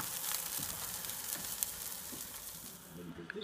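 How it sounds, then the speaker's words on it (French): A whole stuffed wild boar, sewn shut after filling, roasts with a soft continuous sizzle and hiss. Faint scattered crackles sit under it, and the sound thins out toward the end. "vous aimez ce petit bruit de cuisson"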